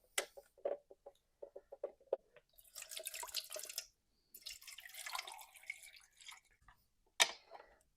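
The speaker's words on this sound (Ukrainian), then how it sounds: "Зараз тепер сюди залью водичку." Water is poured into a small appliance in a home, with scattered drips and trickles followed by two longer bursts of splashing pour, then a brief plastic clatter, quiet and close.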